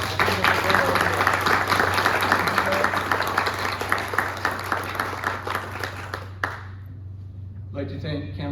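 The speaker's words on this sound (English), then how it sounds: "I'd like one more round of applause for Peggy Murphy and her words." An audience at a Pearl Harbor Day anniversary ceremony claps in a steady round of applause for about six seconds, which stops abruptly and is followed by brief faint sounds, with a low hum underneath throughout.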